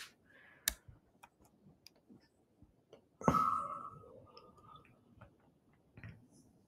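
Sparse computer mouse clicks tap out at close range, a few isolated sharp ticks spread across the quiet, with a brief louder rustle partway through.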